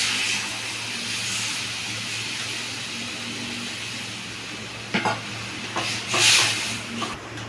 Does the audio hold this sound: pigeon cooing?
no